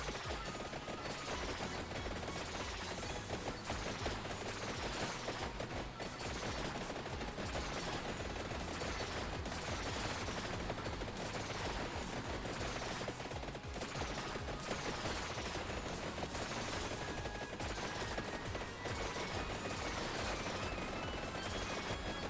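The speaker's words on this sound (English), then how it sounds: "Now we get explosions!" Vampire Survivors gameplay, the Heart of Fire weapon setting off a dense, unbroken barrage of rapid gunfire-like pops and explosions, loud and continuous throughout with music underneath.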